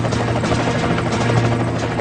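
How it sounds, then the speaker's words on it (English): United States Coast Guard air rescue helicopter in flight, a loud, continuous rotor and engine drone with steady low thumping that holds at close range throughout. "A United States Coast Guard air rescue helicopter races into hostile territory."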